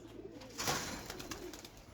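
Young female pigeon cooing nearby, a soft murmuring call swelling briefly in the middle over a steady background hiss.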